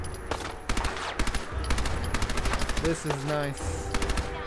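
Tommy gun automatic fire in Fallout 4 rattles out in loud, rapid bursts of evenly spaced shots, close and sustained, broken by short pauses, while someone speaks briefly over it.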